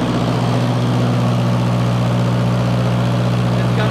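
A Kohler 10 kW generator powered by a Ford Pinto 4-cylinder engine runs under load with a liquid-cooled exhaust. It makes a loud, steady, close-up drone with a deep low hum that never changes.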